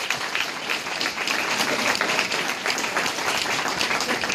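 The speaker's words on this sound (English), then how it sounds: "Let's give him a round of applause." A conference audience applauds for a founder coming up to speak, giving dense, steady clapping that holds loud and even throughout.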